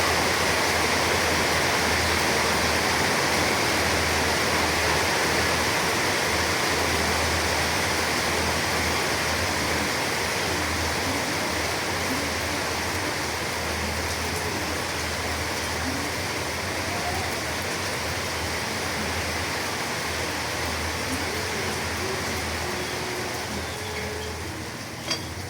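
Very heavy rain pours down steadily in a dense, loud, continuous roar that stays constant throughout, with no voices heard.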